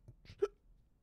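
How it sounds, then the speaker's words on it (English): A single sharp hiccup from a man partway through spoken commentary on cryptocurrency market figures, close and brief, set against near silence. "excuse me, hiccups"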